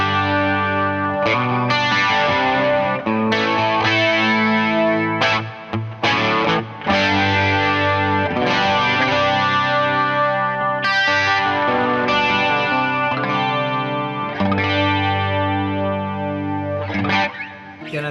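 Electric guitar with heavy gain running into a Dimension-style DC2 chorus pedal set after the drive, playing sustained distorted chords and riffs with a wide shimmering chorus, loud and continuous with brief gaps between phrases.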